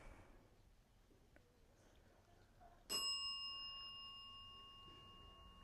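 A single bell strikes sharply about midway through a quiet indoor room during a paranormal investigation, its bright ringing tone sustaining and slowly decaying over faint background hiss.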